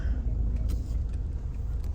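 A car drives along a road in Laos, its low engine rumble and tire noise steady and close throughout, with no one speaking.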